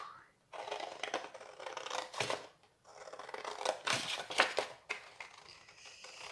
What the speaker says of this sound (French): on va découper ça. Là, je coupe comme ça mon arrondi